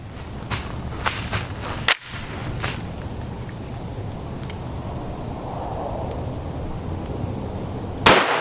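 A single sharp, loud 9mm shot of Geco 115-grain jacketed hollow point from an Evo barrel into a gel block, then quiet range ambience and a second loud crack near the end.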